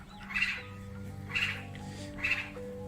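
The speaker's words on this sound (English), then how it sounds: "I hear the birds." Three evenly spaced bird calls ring out about a second apart, fairly close, over a low steady background hum.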